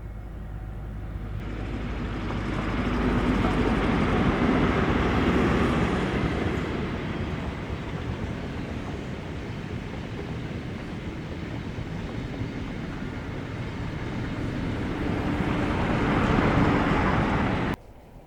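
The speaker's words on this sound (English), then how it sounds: "see these power cars in back-to-back formation hauling the ScotRail set" Class 47 diesel 47712 Lady Diana Spencer with Mark IIF DBSO 9707 hauls a ScotRail coaching set out of Foley Park Tunnel, a loud, steady rumble of engine and rolling stock that swells and holds close throughout.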